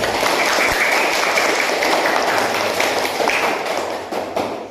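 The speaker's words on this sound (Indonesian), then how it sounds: "Tepuk tangan untuk Rizky" A room full of children claps steadily for several seconds, the applause dense and even before tapering off at the end.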